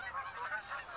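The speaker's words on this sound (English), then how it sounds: "Got geese everywhere by the sounds of it." Geese honking in the hunting game theHunter: Call of the Wild, several calls overlapping in quick uneven bursts, moderately distant against a quiet outdoor background.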